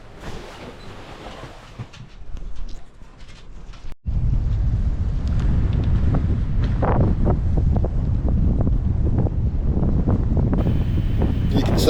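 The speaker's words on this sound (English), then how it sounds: "See the swell coming in from the side there, combination of the prevailing wind and the swell coming in from the open ocean" Open-ocean swell rolling in from the side and the prevailing wind buffet a boat, making a loud, steady roar of wind across the microphone with deep rumbling wash. It is quieter at first, then jumps abruptly to a sustained heavy blast.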